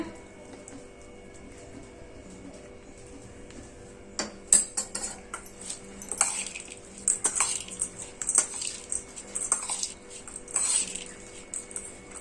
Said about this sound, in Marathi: आता हे आपण छान मिक्स केलंय।